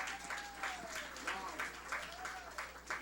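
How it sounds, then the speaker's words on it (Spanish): Church congregation applauding together during a Spanish-language sermon, a steady wash of clapping that rises and falls in waves over about three seconds, with a faint sustained musical tone beneath. "Den un aplauso al Señor."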